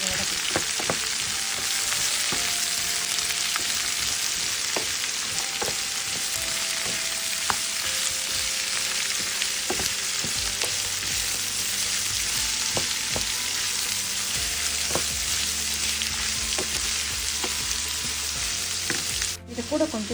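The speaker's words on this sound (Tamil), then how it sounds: "கேரட்டை சேர்த்து நம்ம வதக்கலாம்." Carrots stir-frying in a pan, a steady close sizzle and crackle with scattered clicks of stirring throughout, running continuously without speech.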